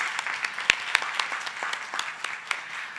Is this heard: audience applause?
yes